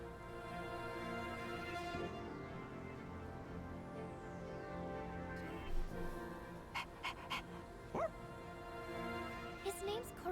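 Koromaru, a dog in the video game Persona 3 Reload, gives a few short, faint yips and panting sounds in the latter half, set against steady game background music.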